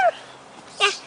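A pet dog gives two brief, high whimpering yelps about a second apart in a front yard where kids are practicing karate, with faint background noise between them.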